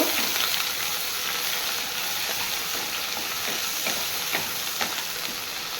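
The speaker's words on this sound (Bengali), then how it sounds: "চিনি মাছগুলো প্রথমে আমি ভেজে নেব" Small fish frying in oil in a pan give a steady, close sizzle with occasional crackles and faint stirring clicks throughout, with no talk.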